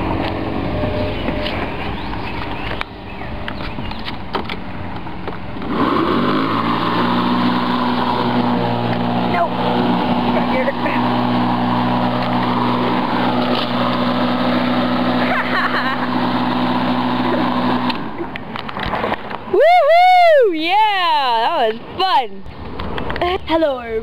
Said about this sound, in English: Running over homework with a lawnmower is fun.